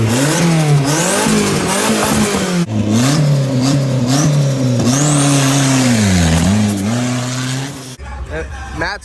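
A high-powered race car's engine revs hard at a roll racing event, loud and close, climbing and dropping in pitch through repeated throttle pulls, with a brief tire squeal and crowd noise toward the end.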